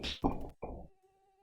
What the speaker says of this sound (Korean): 철수야 너 언제까지 모기 잡을래